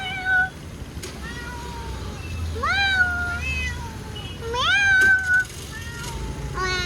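A cat meows repeatedly on a plant-filled balcony during the monsoon: several rising, drawn-out cries close by, separated by short quiet gaps, over low background hum.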